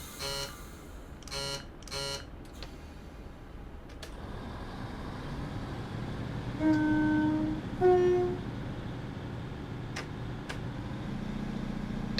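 A Class 150 diesel train pulls away from Oulton Broad on the Norwich to Lowestoft line in Train Simulator 2016. Cab buzzer beeps and clicks come first, then a low engine rumble rises, cut by two short horn tones.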